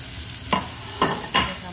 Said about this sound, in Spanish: Dejamos que se fría un poquito.